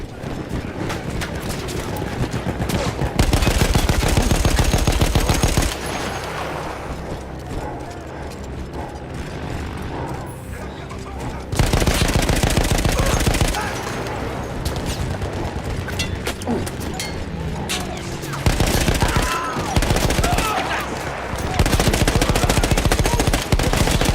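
Heavy machine-gun fire from a mounted gun in Battlefield 1 comes in several loud bursts of rapid shots, separated by quieter stretches of battle ambience.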